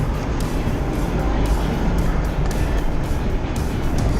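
Engine of a car called Jenny while driving on a short ride, heard from inside: steady low rumble and road noise at constant level throughout, no talking.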